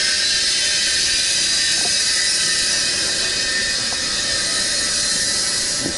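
A Fieldpiece MR45 refrigerant recovery machine runs steadily and loudly throughout, a constant motor and compressor drone with a whining high-pitched hiss, recovering about half a pound of refrigerant.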